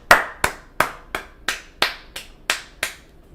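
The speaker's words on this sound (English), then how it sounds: "Everyone give Letitia a round of applause for not being evil." Nine slow, evenly spaced hand claps ring out close and crisp, each a sharp smack with a short decay, with no talking underneath.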